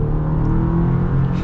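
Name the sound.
2023 Chevy Colorado LT pickup accelerating, Turbo Plus powertrain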